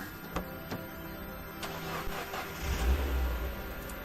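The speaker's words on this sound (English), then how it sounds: "So we're gonna take the car." A car engine starts and revs in the video game Don't Escape 4: Days in a Wasteland, a mid-pitched motor rising and growling steadily, getting louder toward the end with no talking.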